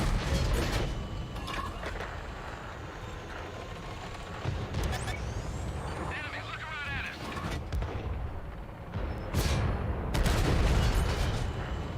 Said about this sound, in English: Look at that, shells flying from the left.